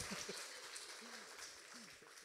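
Festival gala audience applauding a Grand Prix laureate at a children's song festival, a steady wash of clapping heard under an emcee's voice speaking over it.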